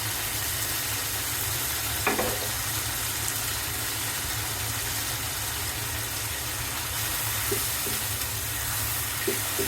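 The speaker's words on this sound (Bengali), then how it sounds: "এখন আমি একটু জল দিয়ে দিব" Water hitting a hot pan of kajoli fish bhuna curry, giving a steady, even sizzle and hiss throughout, broken by a few faint clinks of utensils, with no voices.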